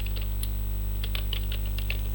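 Rapid, uneven keystrokes clatter on a computer keyboard during a Linux lab on a cyber security learning platform, close and clear over a steady low electrical hum, with no talking.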